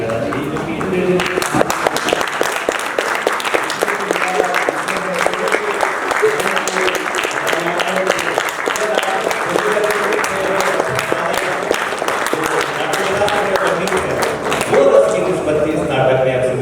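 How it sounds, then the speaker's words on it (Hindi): A theatre audience stands and applauds a Hindi stage drama with loud, dense and steady clapping from a large crowd that carries on without a break. "एक बार आप सभी को खड़े होकर इस नाटक के लिए ताली बजाना चाहिए"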